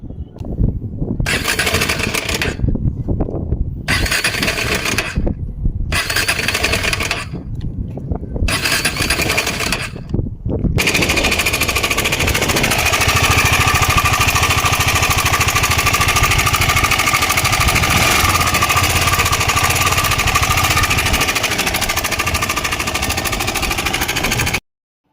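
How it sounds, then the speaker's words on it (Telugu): A KTM Adventure 250 motorcycle engine with a timing chain fault sputters in short bursts, then settles into a loud, continuous, rough-running drone close by. "మనకి ఇంజన్లోంచి సౌండ్ అయితే విపరీతంగా అయితే వస్తుంది"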